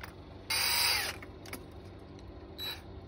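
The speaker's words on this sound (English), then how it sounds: "We're gonna go on ahead and drill some more out of this hole." A power drill bores into a mule deer antler in a short, loud whir lasting about half a second, followed by quieter mechanical rattling and a brief second burst of drilling.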